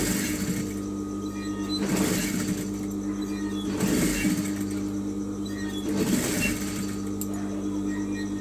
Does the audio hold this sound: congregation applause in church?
no